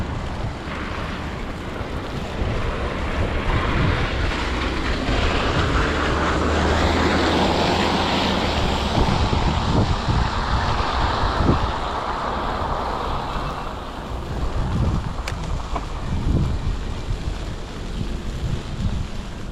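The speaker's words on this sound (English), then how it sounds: "There's a bit of wind." Steady winter wind rushes and buffets the microphone while biking in snowy Toronto, a continuous low roar with gusty swells and no voices.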